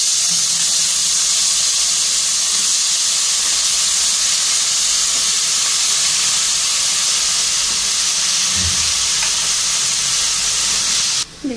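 Ginger and radhuni seeds tempering in hot oil for thin masoor lentil dal, giving a loud, steady sizzle and hiss that runs close and unbroken, with no talk over it.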